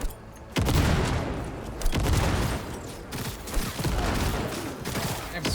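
Heavy gunfire and grenade blasts in a video game firefight, a dense, loud barrage of overlapping shots and booms rolling on without pause.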